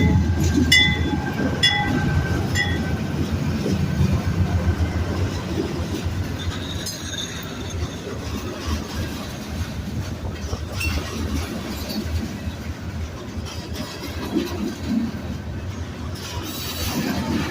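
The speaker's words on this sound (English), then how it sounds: "It's a slow-moving train." A slow-moving train rolls through a crossing in Old Hickory, Tennessee, with a steady rumble of railcars, faint wheel squeals and some clacking. The sound stays continuous and moderately close, with no talking.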